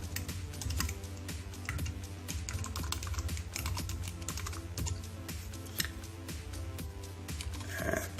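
Keys clatter on a computer keyboard while logging in to an account, a rapid, fairly close run of clicks with short pauses, otherwise quiet.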